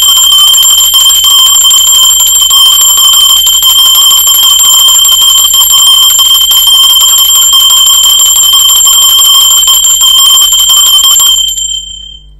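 A bell rings continuously for about eleven seconds, a bright sustained metallic tone with steady overtones, loud and alone, then cuts off abruptly.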